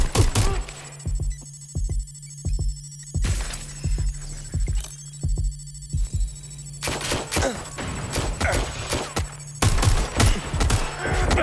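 Rapid bursts of gunfire in the Watch Dogs: Legion video game, loud and close, broken into repeated volleys with short gaps between them.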